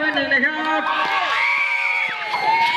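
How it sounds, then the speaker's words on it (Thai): Spectators at a village football match between two local teams cheer and shout continuously, a close, lively crowd with whoops and raised voices running throughout. "ขอเสียงกองเชียร์ควางสาวใหญ่"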